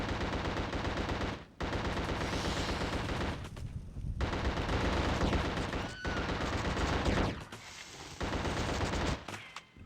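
Rapid bursts of gunfire in the horror shooter game The Suffering, loud and dense across most of the stretch, broken by a few brief pauses, with layered game effects and music underneath.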